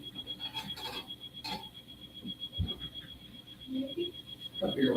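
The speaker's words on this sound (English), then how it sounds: "my camera was beeping." A camera's electronic beep rings as a steady high tone through the whole stretch, with rustling and handling noise and brief voices nearby.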